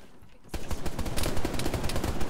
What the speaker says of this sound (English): He's shooting me.